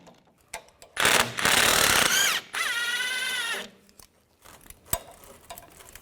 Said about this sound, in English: Using a 15mm wrench, put this over the sway bar link nut up top and use a 15mm socket.